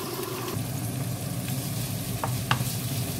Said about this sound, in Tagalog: I-fry natin ng konti yung bell pepper.